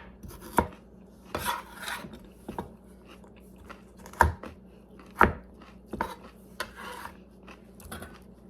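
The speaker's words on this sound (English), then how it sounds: "I cut up the carrots in small pieces" A knife chopping carrots into small pieces on a cutting board, sharp close thuds in an irregular rhythm with quiet gaps, for a beef stew.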